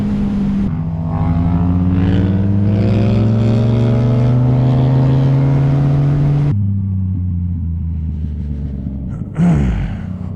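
A Yamaha MT-09 motorcycle engine revs loud and close with a steady climbing drone, drops off abruptly around the midpoint as the rider shifts gears, then picks up again with a short surge near the end.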